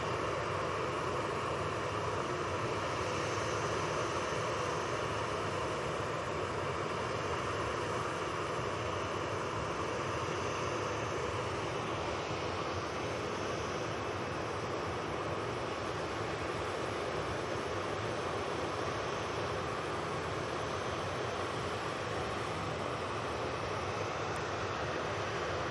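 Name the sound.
Ryanair plane on final approach to Manchester Airport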